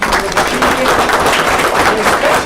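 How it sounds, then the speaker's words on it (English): Board of education meeting audience applauding, a loud continuous wash of clapping in a room with a faint tonal hum running underneath, even and sustained. "A great round of applause for all the people"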